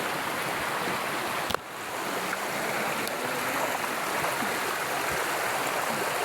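Continuous rushing water of a river stream, steady broadband flow with a brief sharp knock early on, no talking.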